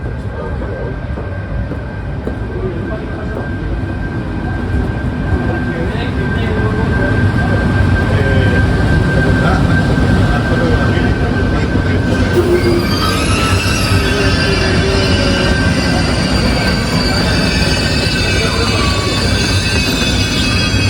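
A Renfe Avant high-speed train running across Spain, heard from inside the carriage as a steady loud rumble of wheels on rail with a constant tone, joined by rising metallic wheel squeal midway that persists to the end.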